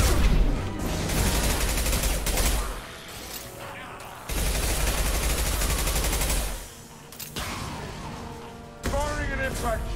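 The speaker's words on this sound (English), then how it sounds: "Firing an impact shot." Impact-shot gunfire in the video game Mass Effect 2 crackles in loud, dense bursts amid battle noise, separated by short quieter gaps, with some voices mixed in.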